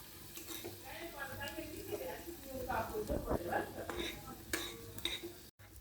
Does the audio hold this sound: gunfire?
no